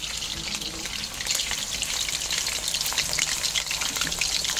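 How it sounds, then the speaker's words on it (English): Lamb pieces for Uzbek plov fry in hot oil, a steady close sizzle with dense crackling and spitting that swells slightly after the first second and holds without any talk. "fry and put inside piece by piece"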